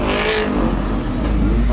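A Chevrolet Camaro accelerates past on the road, its engine roaring and rising in pitch as it sweeps by close and loud, with a little background voice chatter.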